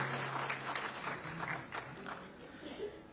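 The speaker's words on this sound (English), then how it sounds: "So let's give a huge round of applause." Audience applause at a heritage celebration event, moderately distant and steady for about three seconds, with a faint murmur of voices beneath the clapping.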